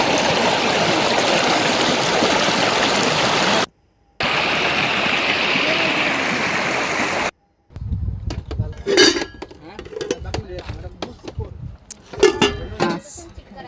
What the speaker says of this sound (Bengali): তার চেয়ে সবচেয়ে বেশি ভালো লাগে এখানকার পানির ছলছল শব্দগুলো।